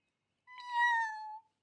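A cartoon cat gives a single clear, sustained meow that rises slightly and then tapers off. It is heard alone against silence in a French-dubbed children's animated show.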